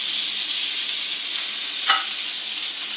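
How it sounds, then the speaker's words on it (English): Steady, bright sizzling of a pork chop searing on a hot grill, continuous and close, with one brief louder crackle near the middle and no talking. "It's a nice sizzle."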